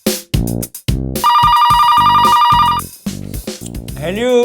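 A telephone rings in loud repeated electronic bursts, mixed with music and brief voices in a comedy sketch scene.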